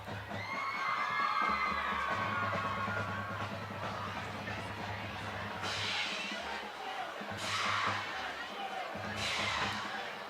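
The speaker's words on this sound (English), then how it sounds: "You hear a student section in the background, still staying true at the blue, cheering on a football team homecoming night." A high school student section cheers at a homecoming-night football game between Hamilton High and Mason, a distant, sustained crowd roar rising in a few swells beneath a nearby announcer's voice.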